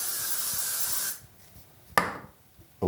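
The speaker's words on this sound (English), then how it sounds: "a little bit of hairspray to set my hair" Hairspray misted onto hair, one sustained hissing burst about a second long, then a quieter pause and a short, sharp spray-like puff.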